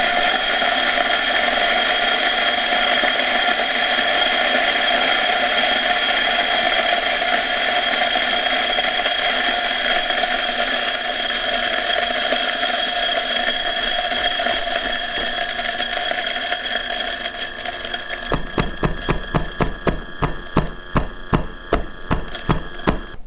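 A Ceado E5SD espresso grinder runs steadily at a coarser setting, a continuous dense whir that stops abruptly near the end, followed by a quick series of sharp taps and knocks.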